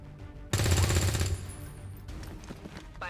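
Automatic gunfire in XCOM 2 breaks out suddenly as a loud, rapid burst lasting under a second, then fades into quieter trailing shots and echoes.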